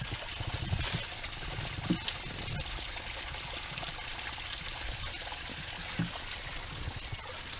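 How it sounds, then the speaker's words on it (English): A small woodland stream trickles and flows steadily close by, a constant watery wash with a few brief knocks and splashes, and no talking over it. "It's like a little stream that flows in and flows down into there."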